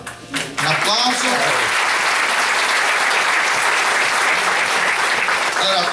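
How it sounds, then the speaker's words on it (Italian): An audience at an Italian theatre evening bursts into loud, steady applause right after a voice speaks briefly, the clapping continuing evenly to the end. "Un applauso."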